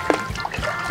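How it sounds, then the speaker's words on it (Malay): Water poured into an 80-litre container already holding soil gives short, close splashy trickles and glugs with brief pauses, fairly loud and over in under a second. "Kemudian kita isi dengan air."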